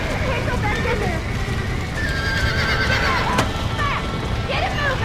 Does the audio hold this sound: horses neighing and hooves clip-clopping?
yes